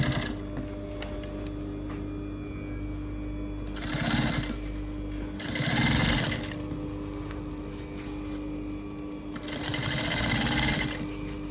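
A sewing machine stitches a baby girl's dress with a crinoline ruffle base, running in three short bursts of rapid whirring separated by quieter pauses over a steady low background hum.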